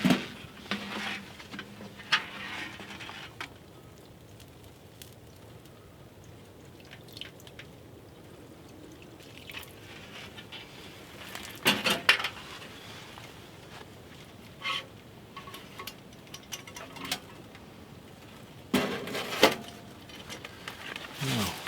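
A Stanley fry pan is cleaned at a sink in a quiet room, with scattered drips, splashes and clinks of utensils against the pan coming in short, irregular bursts over low background noise.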